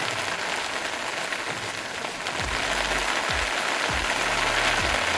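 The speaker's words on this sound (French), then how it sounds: "C'est de la pluie mélangée avec de la grêle." Heavy rain mixed with hail pours down over a winter lake, a dense, loud hiss of drops with sharper pattering impacts, and a few low thumps and knocks near the end.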